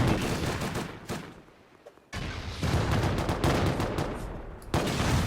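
Dense, loud bursts of gunfire and explosive rattling in the video game Rust, easing off into a quieter lull before heavy shooting resumes.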